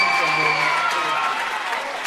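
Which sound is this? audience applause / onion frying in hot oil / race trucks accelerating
audience applause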